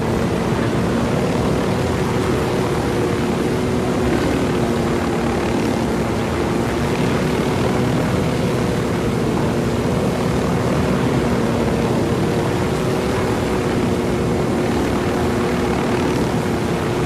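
A helicopter in the video game Ghost Recon Wildlands drones with a steady, loud rotor and engine hum throughout, holding near and constant with no talk over it.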